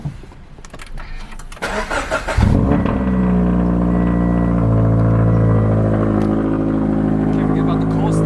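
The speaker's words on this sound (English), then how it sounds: "Can't forget about the cold start." A Subaru BRZ engine cold-starts with a cranking burst, then catches into a loud, steady high idle that holds close by, with a brief shift in pitch partway through.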